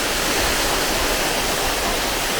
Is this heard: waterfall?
yes